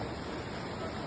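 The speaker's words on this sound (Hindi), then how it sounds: "ये झरना जो एक विशेष झरना है" A waterfall plunging about 200 feet roars as a continuous broadband wash of falling water, steady and fairly close, with no speech over it.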